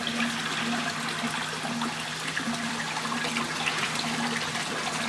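Water runs steadily through the plumbing of an aquaponic system holding fish, a continuous close trickle and gurgle with a faint hum beneath, no voices.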